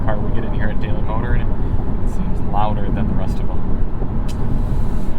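Inside a 2023 Toyota Prius Prime at highway speed, a loud, constant low rumble of road and tire noise fills the cabin beneath a person talking throughout.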